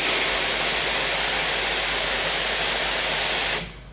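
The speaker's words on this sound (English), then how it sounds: "I'm going to show you how powerful the steam is" Steam blasts from the wand of a Gemilai 3131A espresso machine in one loud, steady, close hiss lasting several seconds, then cuts off abruptly.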